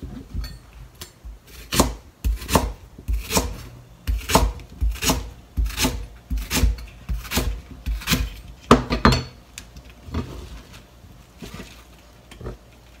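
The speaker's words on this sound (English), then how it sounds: "cut white spring onion diagonally" A knife slices white spring onion diagonally on a cutting board for soy milk nabe, a steady series of crisp chopping taps about every half second, close and alone, thinning out near the end.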